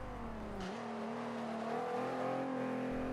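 A Volkswagen Corrado VR6 in Forza 5 holds a steady engine drone through a Nürburgring corner, the pitch climbing slowly and evenly throughout.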